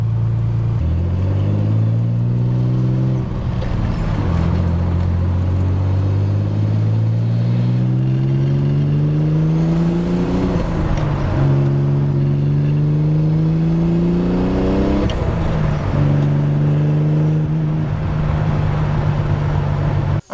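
A Nissan 300ZX pulling hard on a highway, engine note climbing repeatedly through the gears with brief dips at each shift, loud and close from inside the car, steady road rumble underneath and no talking.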